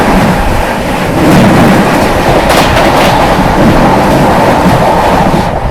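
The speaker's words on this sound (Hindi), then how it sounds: "आनंद विहार से चलकर हल्दिया की ओर जाने वाली आनंद विहार हल्दिया सुपरफास्ट एक्सप्रेस आती हुई" Anand Vihar–Haldia Superfast Express rushing past at speed, a loud, steady roar of wheels and rumbling coaches with faint rhythmic clatter, sustained and close throughout.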